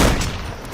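Gunfire in a multiplayer shooter video game, a loud, close, dense burst of overlapping shots lasting under a second.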